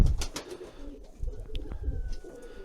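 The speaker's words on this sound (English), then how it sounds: "Another good pigeon in the breeding loft" Pigeons in a breeding loft give soft, low throaty coos, a few rolling calls close by, with faint rustling and a thin whistle-like tone in the background.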